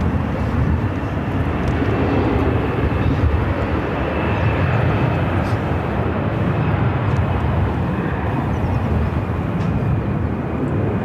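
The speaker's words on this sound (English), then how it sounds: "South side arrival is Southwest Airlines Flight 2566 coming in from San Antonio, Texas" A Southwest Airlines 737-700 arriving from San Antonio, Texas at Phoenix airport produces a loud, continuous engine roar that stays steady throughout, close and dense with no voices.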